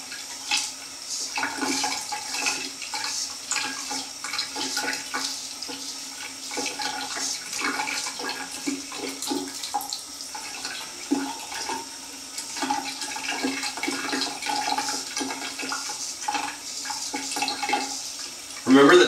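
A straight razor blade is rinsed under a running tap during a shave, a steady close gush of water splashing continuously with small fluctuations throughout.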